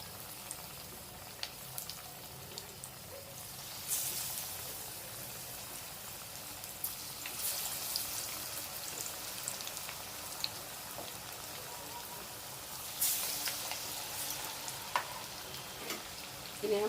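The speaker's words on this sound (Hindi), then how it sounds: "गरम गरम तेल में ही हम बड़ों को अच्छे तलेंगे" Chana dal vadas frying in hot oil, a steady crackling sizzle with scattered pops running throughout, brief louder bursts as pieces are added or stirred, no voices.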